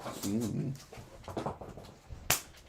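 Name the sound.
dog whimpering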